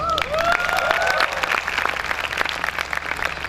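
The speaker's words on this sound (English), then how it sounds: "Give yourselves a round of applause." Graduates applauding at a 2017 convocation ceremony, with sharp individual claps scattered through a crowd's clapping and a few whoops and cheers rising early on, then tapering slightly.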